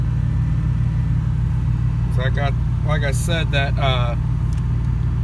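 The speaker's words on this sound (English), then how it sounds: "that engine is just racing right now" A car engine runs at a steady, fast idle with the throttle stuck high during a breakdown, a constant low drone, while someone talks briefly over it up close.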